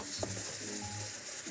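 Hot caramel in a tall saucepan bubbles and sizzles on a high flame as cream goes in and is stirred, a steady close hiss with soft bubbling underneath, no voices.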